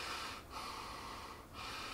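Two soft nasal breaths drawn through a cloth face mask, each a brief muffled sniff over steady background noise.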